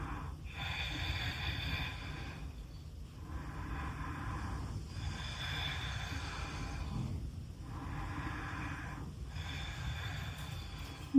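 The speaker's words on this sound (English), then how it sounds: "Take 3 breaths wherever you are." Slow, steady breaths held during a hip-opening yoga flow pose, about three long breath cycles with soft airy swells and pauses, close and fairly quiet with no talking.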